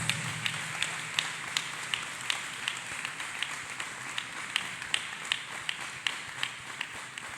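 A church congregation claps hands together in a steady rhythmic beat, the sharp claps evenly spaced and continuing throughout over a busy room.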